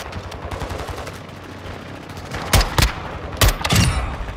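Gunfire from a sniper rifle in the video game Modern Warfare 2: about four sharp, loud shots in the last two seconds, standing out over a steady background rumble.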